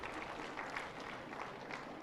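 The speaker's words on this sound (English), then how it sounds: "A big round of applause," Audience applause at a national-level World Elephant Day awards ceremony, a steady patter of many hands clapping, faint and even, with no speech.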